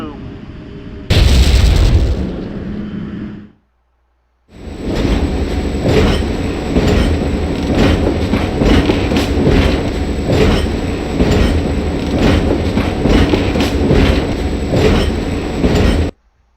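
A loud blast, a brief pause, then a train in the video game Valkyria Chronicles rumbles along with steady rhythmic clacking of wheels on track, close and continuous.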